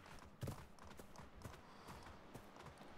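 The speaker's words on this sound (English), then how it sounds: "There's a horse running around over there." Hoofbeats of a horse running in the Atlas survival game, a steady, fairly soft clip-clop spread across the stretch over a low outdoor ambience, with no talking.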